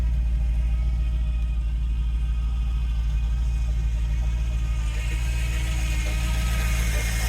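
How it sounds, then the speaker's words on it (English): A 1935 Chevy Standard hotrod with a steel body and a 350 V8 idles steadily with a gear-drive timing set, giving a low rumble with a whirring mechanical tone that brightens toward the end, close and continuous with no talk. "That noise is a gear drive."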